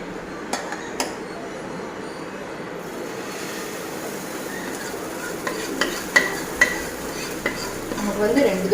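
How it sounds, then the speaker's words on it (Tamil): Dosa batter sizzles on a hot oiled pan, a steady low frying hiss with occasional light clicks and taps of a utensil, growing a little busier toward the end. "நம்ம தோசை ஊற்றிக்கலாம்."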